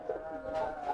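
A pigeon gives soft, low courtship coos during giring, a short faint murmuring call heard close in a quiet space.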